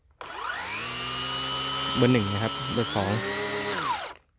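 A Makita DUX60 cordless multi-function power head motor spins up to a steady high whine, then brakes quickly to a stop, while someone speaks over the running motor.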